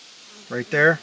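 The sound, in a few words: buzzing of flying bugs outdoors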